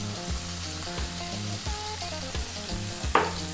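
Fish fillet fries in a pan over high heat with oregano and salt, a steady sizzle under background music, with a sharper scrape or clatter of stirring near the end.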